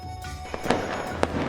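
Fireworks burst in a quick cluster of sharp crackling pops over a steady rumbling wash, with two stronger bangs standing out, loud and close.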